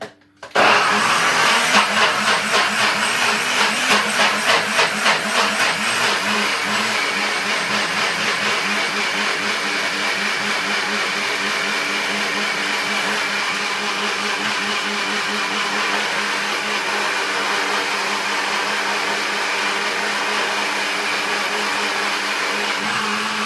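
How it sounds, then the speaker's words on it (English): A blender starts up and runs loud and steady blending fruit and ginger, with a pulsing churn at first that smooths into a constant high-pitched whir. "blend up all of the ingredients"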